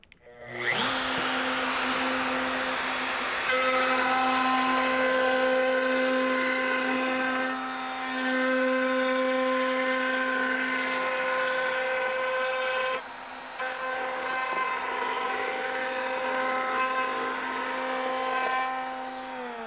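A wood router runs along a clamped straightedge, cutting a straight beading line into wood for a vintage bookshelf. Its loud, steady, high motor whine continues for about nineteen seconds, dipping slightly midway, with no talking.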